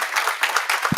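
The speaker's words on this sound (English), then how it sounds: "Let's give them another round of applause." Brief applause from an audience at a university board of supervisors meeting, a moderate wash of clapping heard at a distance.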